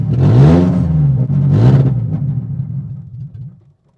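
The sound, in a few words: BMW E36 M42B18 engine running then stalling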